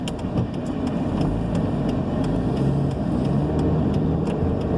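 Car engine and road noise while driving on the highway, a constant low rumble heard from inside the cabin, steady with faint ticking clicks over it.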